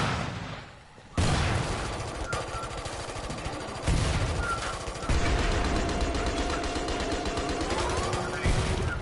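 Rapid gunfire from the Killing Floor 2 video game, dense continuous bursts that cut in after a brief lull and carry on loud and close to the end, with a few heavier shots mixed in.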